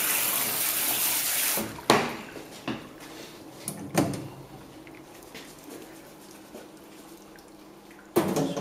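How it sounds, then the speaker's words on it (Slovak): Water from a pressure spray shower rinses freshly cooked pasta in a multifunction Frima tilting pan, a steady splashing hiss with a few sharp metallic knocks and clatters breaking through. "mám tu tlakovú sprchu, keď si cestoviny takto zľahka pretlaknem"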